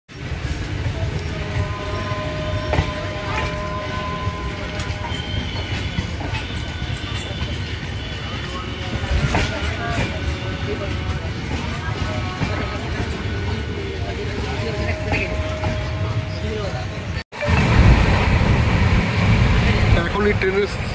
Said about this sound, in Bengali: এখনও হাওড়া চত্বর থেকে বেরোয়নি ট্রেন